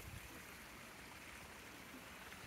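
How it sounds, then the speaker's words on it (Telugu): A small waterfall on Glencoe Mountain gives a faint, steady rush of falling and flowing water, heard from a distance as an even broadband hiss that does not change, with no voices or other sounds. "చిన్నగా వస్తుంది వాటర్ ఫాల్."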